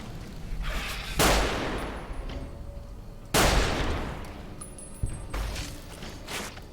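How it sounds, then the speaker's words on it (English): Plasma weapon fire in Fallout: New Vegas, two heavy, booming blasts a couple of seconds apart, each decaying into a rolling roar, with smaller crackling shots and a brief high whine between them. "Oh, something shooting plasma."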